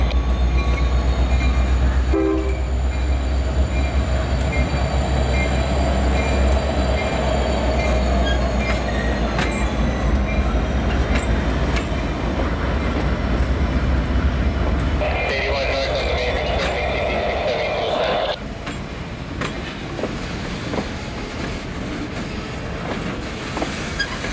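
A Norfolk Southern SD70ACU locomotive rolls across a grade crossing with a loud, steady engine rumble, sustained horn tones and a pronounced pitch change midway, close and continuous throughout.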